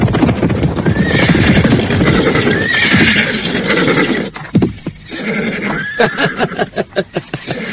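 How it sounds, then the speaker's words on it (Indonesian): A horse whinnies loudly and repeatedly at close range, its neighs rising and falling, followed by sharp clip-clop hoofbeats near the end. "kawan-kawan, ada seekor kuda di sini"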